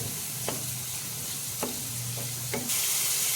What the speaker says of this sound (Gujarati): હવે તેમાં કેપ્સિકમ એડ કરી દેશું, બધું બરાબર મિક્સ કરીને ચલાવતા રહેવાનું રહેશે